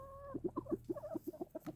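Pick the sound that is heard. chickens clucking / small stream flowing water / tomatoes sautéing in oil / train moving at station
chickens clucking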